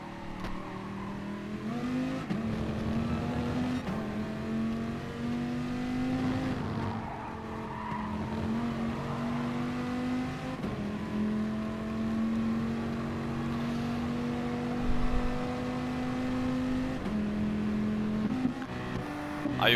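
A Nissan GT-R race car in a racing video game during an FIA manufacturers round, its engine droning loudly and continuously as it accelerates, with gear-change dips and a brief tire screech.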